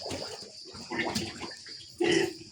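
Water splashes and sloshes in a few bursts, with a louder splash near the end, as a pig pen is hosed and washed.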